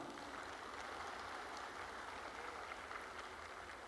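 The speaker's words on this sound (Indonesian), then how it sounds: "Tepuk tangan bapak-bapak dari kelurahan." An audience at a Makassar city civic gathering applauds the village officials, a dense, even patter of many hands clapping that holds steady without letup.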